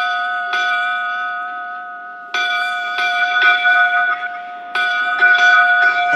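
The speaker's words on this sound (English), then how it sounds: "we give them 8 bells" Clear ringing bells strike eight times in a series of separate chimes, each tone lingering and overlapping the next, with resonant sustained tails.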